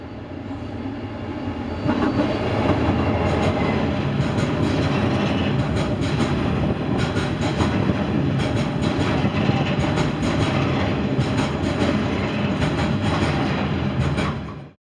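Irish Rail locomotive 073 running near Dunleer Station, a loud, steady rail rumble with a dense rolling clatter that holds throughout and fades only at the very end, with no voices.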